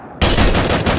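A loud M82 sniper rifle shot rings out in a mobile shooter game, a sharp blast followed by a sustained booming roar.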